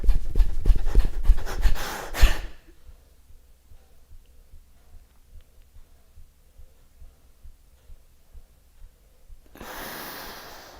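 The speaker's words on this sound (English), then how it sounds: "So let's go. Kapalabhati breath." A few seconds of Kapalabhati yoga breathing, quick forceful exhalations in a fast regular rhythm, come in loud and close. Softer breathing follows, then a brief burst of noise near the end.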